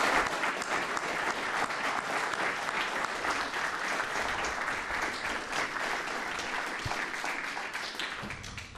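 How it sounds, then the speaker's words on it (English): An audience applauds at a police department awards ceremony, a sustained round of steady, dense clapping from a crowd lasting several seconds before easing off. "A very, very well-deserved round of applause for Sergeant Tim Curtin."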